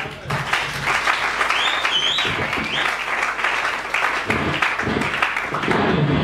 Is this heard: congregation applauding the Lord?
yes